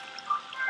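Brief, faint pour of water running into a trench in a video game, a soft splashing trickle heard on its own.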